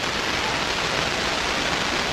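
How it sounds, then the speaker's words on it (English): Heavy rain pours down during a high school football playoff game in Lakewood, Ohio, a dense, even roar of hiss that stays constant and loud with no voices heard. "we are just getting bombarded with rain right now."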